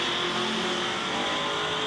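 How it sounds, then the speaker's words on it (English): Racing trucks, a red truck and a Chevrolet C10, accelerate side by side down a drag strip at a street racing event, giving a loud, steady engine roar with a bright whine and no talk. "So the red truck in the right lane of Zach Smith takes on Joe Honda in the C10 on the left-hand side"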